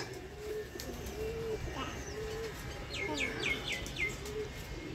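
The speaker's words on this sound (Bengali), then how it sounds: "খুব সুন্দর পাখি ডাকে" Pigeons or doves coo and small birds chirp in a spring rooftop garden, repeated calls at moderate distance over a soft outdoor background, with no one talking.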